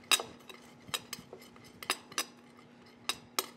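Short ribs are tossed with turmeric, salt and black pepper, making faint, scattered clinks and taps of utensils against a bowl, irregular and close with quiet gaps between.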